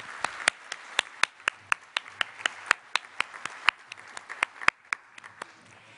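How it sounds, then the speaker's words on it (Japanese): Sparse, distinct hand claps ring out at the close of an energy-policy conference session, a handful of individual claps spaced irregularly across several seconds, fairly quiet and echoing in a hall. "皆様、今一丁盛大な拍手をお送りください。"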